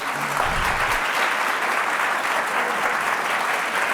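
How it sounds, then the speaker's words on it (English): An audience at a talk on Black women's suffrage applauds two performers, the clapping steady, full and close throughout, with a brief voice near the start. "Let's have a round of applause for these 2 amazing ladies."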